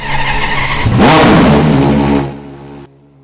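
A loud car engine in the Roblox game Driving Empire cranks and roars to life, revving hard for a couple of seconds before settling into a lower idle rumble.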